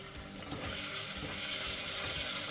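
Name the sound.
onions sauteing in hot ghee in a heavy-bottomed pan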